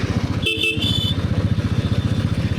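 Motorcycle riding along a road in India just after being repaired, its engine pulsing steadily and close throughout, with a brief horn-like tone cutting in near the start.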